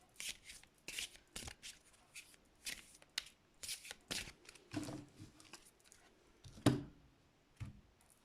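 A deck of tarot cards is shuffled by hand close up, a run of quick riffling bursts and soft slaps in an irregular rhythm, quiet and with no talk.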